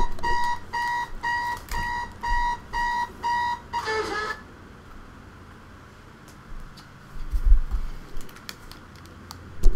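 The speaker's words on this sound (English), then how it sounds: "Oh my god, my alarm." A household alarm clock, switched back on by someone else, beeps loudly in a fast repeating electronic pattern of six or seven pulses, then stops, leaving quiet room noise with a few clicks and thumps.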